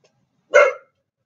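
A dog lets out a single sharp bark, close and clear, with silence before and after.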